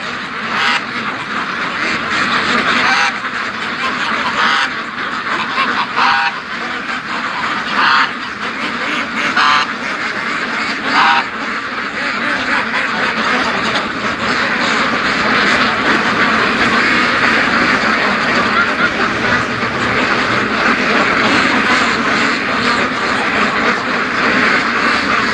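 Free-range Muscovy ducks quack and honk steadily at close range, with repeated loud calls over a continuous background of flock noise.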